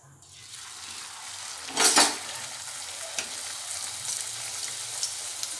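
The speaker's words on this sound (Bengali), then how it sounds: "এবার একে একে ভেজে নেব।" Luchi puffed flatbread dropped into hot oil, a sudden loud burst of bubbling sizzle that settles into a steady crackling fry with a few small ticks, close by and free of talk.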